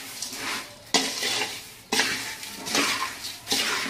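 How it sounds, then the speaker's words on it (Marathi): Murmura chivda tossed and stirred in a pan over low gas, dry puffed rice rustling and scraping in repeated strokes with faint sizzling, close and fairly quiet, with no talking. "आणि गॅस एकदम बारीक ठेवायचा आणि आपल्याला हे हलवून घ्यायचं."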